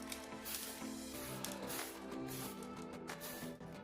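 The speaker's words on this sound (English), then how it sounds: "I'll be painting these cars with spray cans" Steady hissing spray from an aerosol can painting clay BMW M5 models blue and red, sustained bursts with brief pauses, close and fairly loud.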